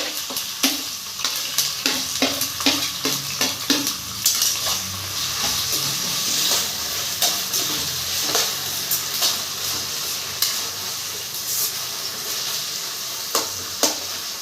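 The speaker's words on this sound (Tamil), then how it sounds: "அரிஞ்சு வைத்த பெரிய வெங்காயத்தை நம்ம நல்லா பொறித்து எடுத்துக்கிறோம்" Chopped large onions fry in hot oil for a chicken masala gravy, a continuous sizzle close by with repeated clinks and scrapes of a metal spoon against the pan at a fairly regular pace; no talking.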